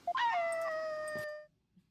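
A dog whines in the Ace Attorney Spirit of Justice video game, giving one drawn-out, high, falling whimper about a second long that sounds near and clear, then stops into quiet.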